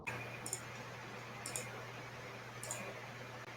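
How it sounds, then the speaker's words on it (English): A few faint, sharp clicks come through a video call, spaced about a second apart over a low, steady electrical hum and quiet background hiss. "I hear clicking."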